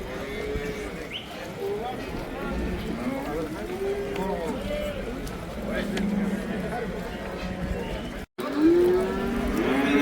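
Cattle low repeatedly at a Karabulak livestock market, with long drawn moos close and at a distance over a busy crowd murmur, and people talking throughout.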